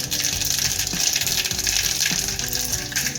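Mustard seeds crackle and sputter in hot oil while dal is being tempered, making a dense, continuous hiss close by with small pops, and nobody speaks.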